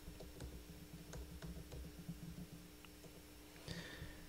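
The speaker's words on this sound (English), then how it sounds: "let's start typing in Thirsty Thursday" Steady typing on a computer keyboard, soft close clicks coming in quick irregular bursts with short pauses, alone against a quiet room hum.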